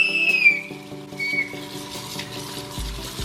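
Running water splashing steadily close by as a dog plays in it, with a brief whistle-like squeak near the start and no talking.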